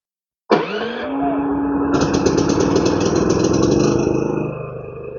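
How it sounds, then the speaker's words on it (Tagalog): A portable generator engine fires up abruptly after a brief silence and settles into a steady, loud running drone with a rising whine, holding even through the end. "Kaya start natin yung ating generator"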